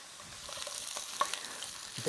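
Food fries in a hot pan with a steady, close crackling sizzle and a few sharper pops and stirring clicks. No one speaks.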